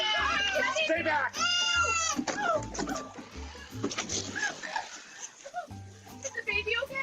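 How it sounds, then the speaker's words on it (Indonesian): A cat meows in a busy children's story scene, with several tonal cries rising over music, background effects and excited talk. "Kucing yang sangat berani, brave cat."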